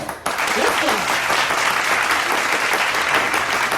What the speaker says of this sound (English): I need a round of applause, y'all